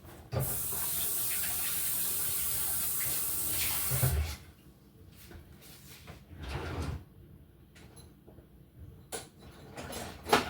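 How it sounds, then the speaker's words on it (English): Hands are washed under a running kitchen tap while cupcakes are being made, a steady splashing stream for about four seconds, followed by quieter intermittent trickles, rubbing and faint handling sounds. "I'm going to wash my hands."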